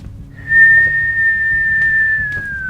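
An actor whistles a single steady, sustained note during a long take on a film set, clear and close with little else around it, the pitch sliding slightly downward at the end.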